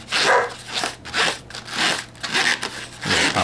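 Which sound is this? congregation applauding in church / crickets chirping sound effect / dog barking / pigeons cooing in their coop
dog barking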